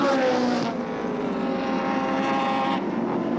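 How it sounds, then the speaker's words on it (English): A 1984 touring race car at Oran Park engine drones loudly past while heading into the pits, a sustained harmonic whine that shifts in pitch as it passes nearby. "Alan Grice also heads for the pits."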